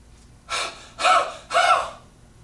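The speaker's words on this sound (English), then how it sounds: "I'm taking breath in and holding it for 3, and I do 3 huff coughs." One person takes a deep breath in, holds it, then gives three forceful, breathy huff coughs in a steady rhythm, close and clear with nothing else around them.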